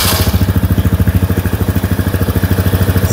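An AKT NKD 125 motorcycle engine idles close by, its single cylinder thumping in a fast, even rhythm with a mechanical clatter on top and no voices over it.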